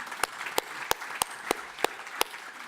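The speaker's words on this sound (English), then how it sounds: "You're getting a clap." A small audience at a Healthy Streets for Auckland gathering clapping for Auckland Transport chief executive Shane Ellison, with a few distinct, evenly spaced claps standing out over light background clapping.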